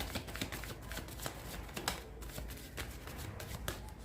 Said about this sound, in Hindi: लास्ट शफल लूँगी प्रभु।